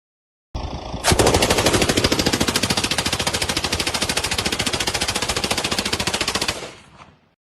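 A machine gun fires one long sustained burst throwing sparks, a loud rapid stream of sharp shots after an opening report, ending in a trailing echo.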